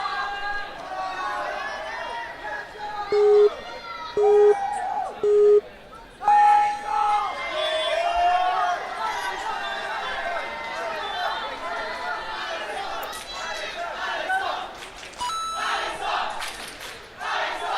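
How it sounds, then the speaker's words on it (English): Loud crowd cheering at an adult male stage 3 ninja competition in the World Ninja League Championships, a roaring mass of voices with several sharp buzzer beeps early on and commentary spoken over the din. "The crowd is incredibly loud for Alex."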